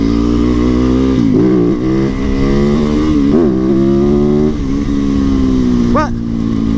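A Yamaha YZ450FX dirt bike engine drones loudly and steadily while riding, with its pitch wavering as the throttle rises and eases, and a sharp rev near the end.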